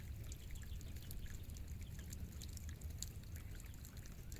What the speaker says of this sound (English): If you listen, you can hear the water dripping off of our barn.